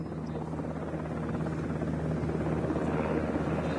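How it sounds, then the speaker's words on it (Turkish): Military helicopter setting down and lifting off again at a disaster relief site in Kahramanmaraş, its steady rotor thump and engine whine loud and continuous throughout with no pauses. "Bakın helikopter şimdi bu noktaya geldi. Tekrar kalkış yapacak."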